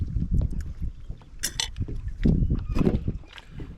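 A homemade raft rocks on the water during an overnight camp, with irregular sloshing, gurgles and soft knocks and creaks rising and falling close to the microphone, plus a bit of wind buffeting.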